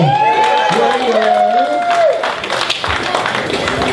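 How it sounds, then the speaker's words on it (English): An audience at a short-form improv show claps and cheers for the team, a crowd sound rising under a host's voice and a few whoops. "You guys give them one more round of applause."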